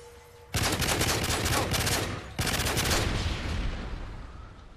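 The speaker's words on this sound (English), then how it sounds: "Oh, whoa, gunshot." Two loud bursts of rapid gunfire in Call of Duty: Modern Warfare 3 during a Search and Destroy match, each a dense rattling volley lasting over a second, separated by a brief gap and trailing off.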